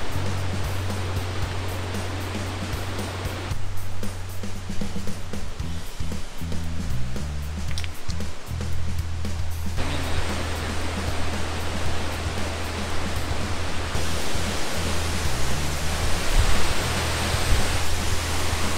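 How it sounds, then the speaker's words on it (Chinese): The Taiguo Lafasi waterfall in Pingtung, Taiwan, roars steadily and loudly close by, a dense unbroken wash of falling water that fills the whole stretch with no talking. "哦，瀑布的声音越来越大了"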